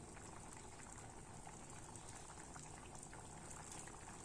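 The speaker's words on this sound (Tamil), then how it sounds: "கொதிக்க ஆரம்பிச்சிருச்சு" Water bubbles and seethes at a rolling boil in a cooking pot while making pea pulao, a dense, continuous crackle of popping bubbles, close and fairly quiet.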